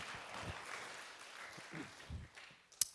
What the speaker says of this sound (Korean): 하나님 앞에 영광의 박수 드립니다.